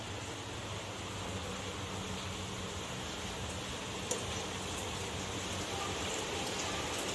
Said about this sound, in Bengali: দেখছেন কেমন বৃষ্টিটা হচ্ছে,